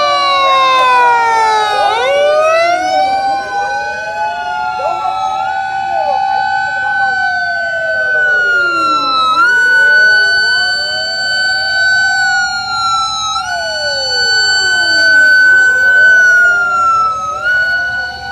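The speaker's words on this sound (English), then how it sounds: "everyone turned on their sirens and drove in a little parade around the school ground" Several emergency vehicles, including fire trucks, parade around a school ground during a Japanese disaster demonstration, their sirens wailing loudly and overlapping in long rising and falling sweeps, close by.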